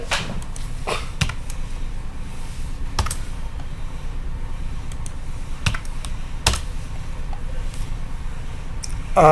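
Steady, continuous typing on a computer keyboard entering an address, with quick close-up key clicks running throughout and a few sharper, louder keystrokes standing out.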